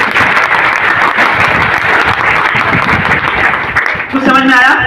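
A live marketing-plan demo audience breaks into loud, dense clapping that runs steadily for several seconds before a voice starts speaking near the end.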